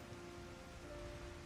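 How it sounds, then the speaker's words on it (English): Pouring rain on the Island Sanctuary in Final Fantasy XIV, a quiet, even hiss of dense raindrops falling steadily with no voices. "Pouring rain and fucking overcast."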